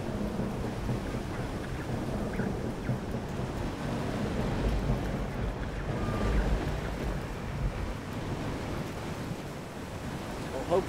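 A warship in Victory at Sea runs at full throttle as a low, steady engine rumble mixed with rolling sea and wave noise. It stays continuous and moderately loud, with no distinct speech.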